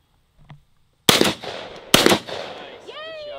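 Two sharp, loud gunshots ring out close together at an outdoor shooting range, each with a short echoing decay, followed by a brief voice.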